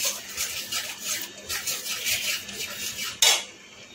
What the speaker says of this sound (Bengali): এটা দিয়ে ভালো করে নেড়ে চেড়ে নেবো